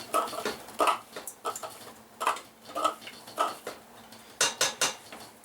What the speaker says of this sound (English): now we're putting them into the pot